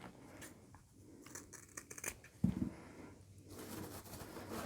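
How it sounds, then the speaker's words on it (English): Scissors snipping through backdrop material, a few quiet close cuts with faint rustling of the material, low in level with no talk. "It looks like I gotta make a little cut down here."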